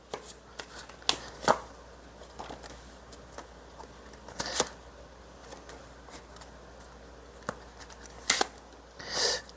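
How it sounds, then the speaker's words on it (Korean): Tarot cards are shuffled and drawn by hand in quiet, crisp bursts of riffling and sharp card snaps, spaced irregularly with near-silent pauses between them. "일단 2번님이랑 이분이랑 어떤 인연인지 먼저 인연 카드 뽑아볼게요"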